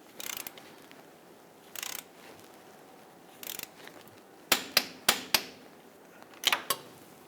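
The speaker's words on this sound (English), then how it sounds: "we can go ahead and torque this down to 26 foot-pounds" A torque wrench ratchets in short bursts while tightening a steering rack clamp bolt on a 2000-2006 Toyota Tundra, followed by a series of sharp, close metallic clicks spaced about half a second apart.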